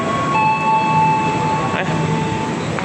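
A Komuter Line Jogja commuter train approaches Jogja station from the east, a loud continuous rumble with sustained high squealing tones drifting over it.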